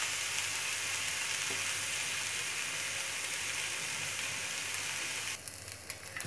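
Onion frying with a little salt in a pan gives a steady, dense sizzle that holds evenly throughout, close by, before a few light clicking sounds near the end. No voices.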